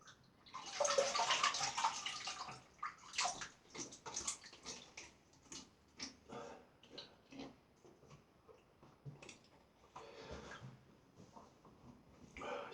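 Cold tap water runs steadily while a face and razor are rinsed after a wet shave, with a loud continuous gush at first followed by quieter, broken splashes and trickles.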